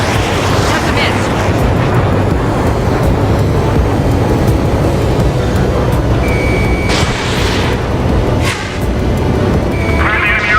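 Explosions and jet aircraft in the video game Ace Combat 7, a loud continuous roar of engines and blasts with synthetic beeps and radio voices talking over the top.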